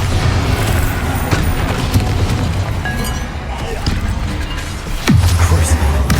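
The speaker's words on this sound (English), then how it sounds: "Bombarda!" Bombarda spell blast from Hogwarts Legacy on PS5, a deep booming explosion with a sharp onset near the end, rising out of a dense, continuous rumble of game combat noise.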